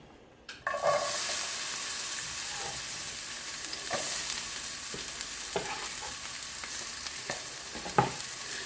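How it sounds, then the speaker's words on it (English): Onions dropped into a hot pan burst into a loud, steady sizzle that continues throughout, with occasional clicks and scrapes of stirring. "that pan's nice and hot. I'm gonna go ahead and put the onions in."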